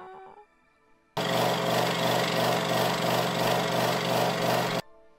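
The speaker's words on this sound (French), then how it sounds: "la scie à ruban, c'est vachement bruyant" A loud, steady band saw roar starts abruptly, runs continuously for several seconds while cutting PVC, then cuts off sharply into quiet.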